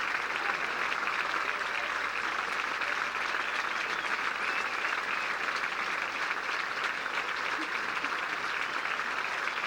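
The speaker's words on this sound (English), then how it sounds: "Nick Faldo getting a fine round of applause, as is Jack Nicklaus" The golf gallery at the 1990 Masters Tournament final round applauds steadily, a continuous wash of clapping from a sizable outdoor crowd, heard from some distance and at an even level throughout.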